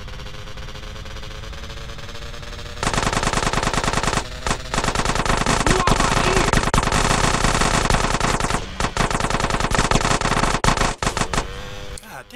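Gunfire in GTA San Andreas Definitive Edition: a long, loud, rapid machine-gun burst that cuts off briefly a few times and then resumes, with a low background hum before it starts.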